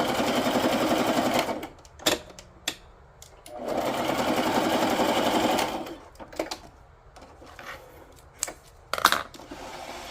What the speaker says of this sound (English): I'm just going to do a fun little stitch up there of some sort